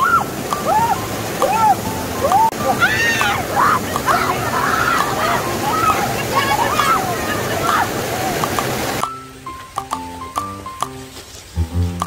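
Rushing water in a mountain valley stream at Daewoonsan in Ulsan, a steady loud wash with sloshing as someone wades in; people talk over it, and near the end the water gives way to music.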